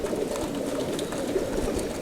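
Racing pigeons coo steadily from crates loaded on a transport trailer, a soft, continuous murmuring chorus of many birds close by, with no talking.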